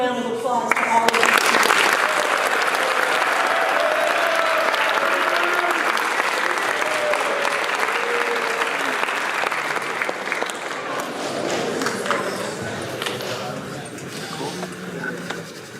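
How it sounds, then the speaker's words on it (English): Audience at a school academic awards ceremony breaks into sustained applause, loud and steady at first and slowly thinning toward the end, while a voice speaks over it. "Let's give one big round of applause to all of you."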